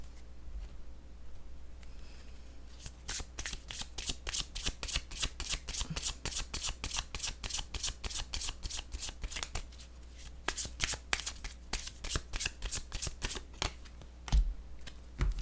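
A deck of playing cards is shuffled before a new card is drawn, giving long runs of rapid crisp riffling clicks, close and fairly quiet, with brief pauses between bursts.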